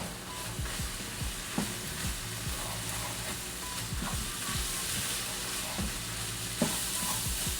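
Ground meat with flour being stirred in a frying pan for biscuits and gravy: a constant close sizzle with rhythmic scraping strokes of a utensil across the pan bottom.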